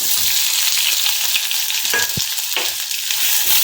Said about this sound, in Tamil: ஆனியன் நல்லா ஃப்ரை ஆகட்டுங்க